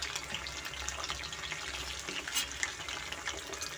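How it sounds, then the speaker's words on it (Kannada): Brinjal pieces frying in oil in a pan for a brinjal gravy, giving a steady crackling sizzle with soft stirring scrapes throughout, close and moderately loud, with no talking. "ಇದು ಎಲ್ಲ ಕಡೆಯೂ ಚೆನ್ನಾಗಿ ಫ್ರೈ ಆಗಿದೆ"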